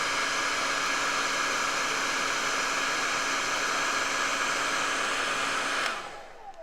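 A hair dryer blows hard to dry paint on a miniature base, a loud steady whoosh that runs unbroken for about six seconds before cutting off abruptly.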